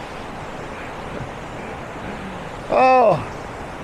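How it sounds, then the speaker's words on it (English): Steady broadband rush of a waterfall and creek water flowing over rocks at McDowell Creek, constant and close throughout, with a brief spoken exclamation near the end. "with water flowing all over the place"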